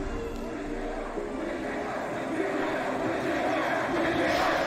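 Steady, dense crowd roar fills a video game concert scene, a continuous wash of cheering and chatter without pause, with a voice talking faintly beneath.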